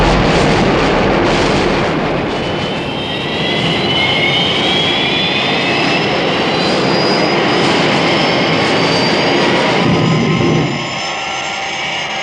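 Thunderbird 1, the aircraft from Thunderbirds, a loud continuous jet roar with a rising whine, building and holding before easing off near the end, with no talk over it.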